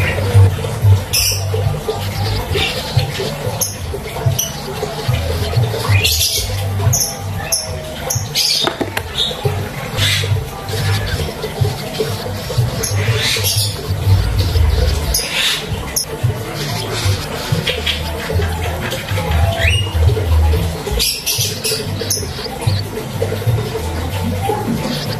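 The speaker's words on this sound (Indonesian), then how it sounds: "lagi berisik soalnya burung-burung pada bunyi semua" Many small birds chirping noisily, including fantail flycatcher chicks, dense overlapping high squeaks and chatter with a low background rumble, continuous and close.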